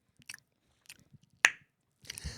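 A mouth imitates chewing bubble gum with a few soft, sparse wet clicks, one sharp snap-like pop midway, then a brief noisy smacking burst at the end, close and alone.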